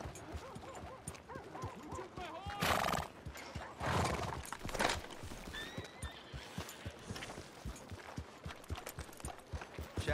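A horse in Red Dead Redemption 2, a dapple grey racer, whinnies loudly twice amid steady clip-clop of hooves, with rhythmic hoofbeats continuing close by across the whole stretch and faint voices underneath.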